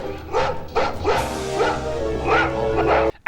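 A dog barks in a quick run of close, loud yelping bow-wows, about six in three seconds, with some whimpering tones among them, in a scene from the horror film House IV.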